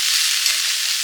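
Drumstick stems sizzling in a pan with mustard oil, a dense, steady hiss of frying held close and constant, briefly rising for a moment midway, with no voices.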